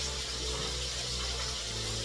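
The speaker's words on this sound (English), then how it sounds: "you would want to wash your rice" Tap water runs in a steady, unbroken rush while rice is washed in a kitchen, heard alone at moderate volume.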